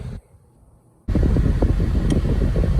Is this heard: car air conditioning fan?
yes